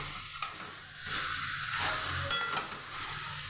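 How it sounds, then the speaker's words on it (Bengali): Chicken fries with onion and spices in a pan, giving a close, steady sizzle, with a couple of brief stirring scrapes and no voices. "এটা আমি ভালো করে ভেজে নেব মশলার সাথে"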